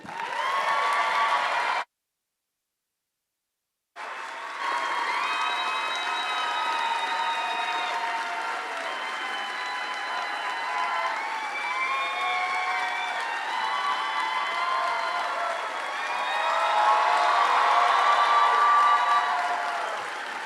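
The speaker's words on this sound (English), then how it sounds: "Please join me in welcoming R.L. Stine and Chris Borelli." An audience at an evening author talk welcomes the guests with sustained applause and some cheering, a dense, steady roar of clapping heard from within the crowd. A brief silent gap breaks the clapping near the start, then it carries on without talk.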